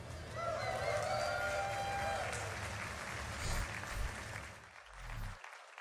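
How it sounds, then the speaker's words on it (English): Audience applause at Summer Games Done Quick, a sustained wash of clapping and cheering with a few whoops, fading toward the end as a voice briefly cuts in. "Can we make one more round of applause for Rightro and Blood Thunder for that awesome showcase of Doom: The Dark Ages"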